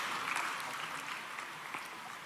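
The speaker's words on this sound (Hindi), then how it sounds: "श्री एकांत जैन जी के लिए जोरदार तालियां स्वागत करेंगे उनका भी" Steady applause from a seated audience at a formal award ceremony honouring selected candidates, a dense continuous clatter of many hands lasting the whole moment, moderately distant in a hall with no voices over it.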